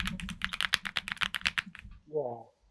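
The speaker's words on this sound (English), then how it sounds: "It's a custom keyboard. The whole frame is aluminum too." Rapid clacking keystrokes on a custom keyboard with a heavy aluminum frame, a dense burst of close, crisp presses lasting about two seconds, then a short voice comes in at the end.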